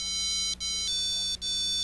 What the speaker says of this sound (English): It's a thin wafer that uses the piezoelectric effect to give off sound.